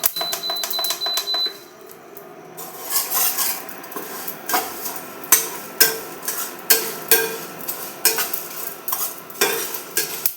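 Dry red chillies and coriander seeds stirred in a hot pan for a sour-sweet hog plum pickle spice mix, close rhythmic scraping and rattling strokes repeating about every half second, faint sizzle underneath, no talking.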